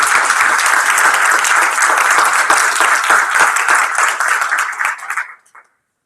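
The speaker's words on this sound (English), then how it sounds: "How about a big round of applause?" Loud, dense applause from the audience at an advocacy training panel discussion, a full crowd clapping steadily for about five seconds before it quickly dies away into silence.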